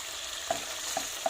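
Meat sizzles quietly in its own rendered fat for a forest kebab, a steady soft frying hiss broken by three small stirring clicks, with no talking.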